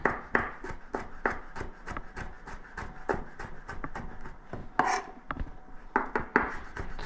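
A knife slices orange peel into fine julienne on a board, making rapid, evenly spaced rasping cuts at close range with a brief louder scrape midway, no talk.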